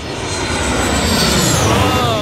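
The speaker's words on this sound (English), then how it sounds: "You can actually see the plane landing from here." A fixed-wing airliner passes low overhead while landing at Hazrat Shahjalal International Airport in Dhaka, giving a loud, close, sustained jet-engine roar with a shifting whine as it sweeps past.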